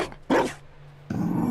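A dog in a fantasy role-playing video game gives two short, loud barks, separated by a brief pause and a low background hum.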